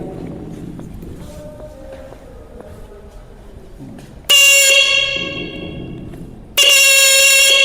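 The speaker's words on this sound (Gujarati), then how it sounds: "એટલે ટૂંકમાં હોર્ન ચાલુ છે" A horn wired to a 12 V battery through a relay blares loudly in two bursts, the first about two seconds long and the second a shorter blast, with quiet background between them.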